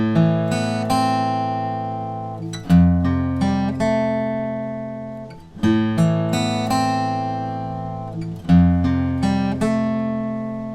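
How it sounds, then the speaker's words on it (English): An electric guitar plays a riff alone, with repeated picked chord stabs and single notes in a looping rhythmic pattern, steady and close, with no voices. "if we're just playing the guitar part by itself, it'll sound like this"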